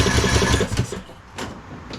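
A Craftsman LT2000 lawn tractor engine cranks in a fast rhythmic churn for about a second, then stops without catching, followed by quieter mechanical clicks nearby.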